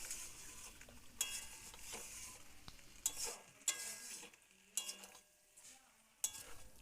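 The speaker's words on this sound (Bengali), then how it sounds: "এখানে ভালো করে নাড়তে হবে, না হলে টক দইটা ফেটে যাওয়ার সম্ভাবনা থাকে।" Marinated chicken being stirred into a spice masala with yogurt over low flame makes quiet scraping and clinks of a spoon against the pan, over a faint sizzle, in short irregular strokes.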